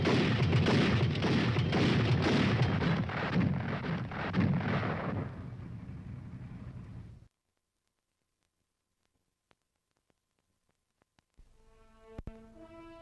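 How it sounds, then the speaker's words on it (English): An M41 tank's machine gun fires fully automatic at 240 rounds a minute, a loud sustained rattle of rapid shots lasting several seconds and fading out. Near-silence follows, then faint background sound. "When it is used as a fully automatic weapon, it fires 240 rounds a minute"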